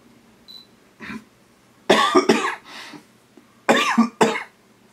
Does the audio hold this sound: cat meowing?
no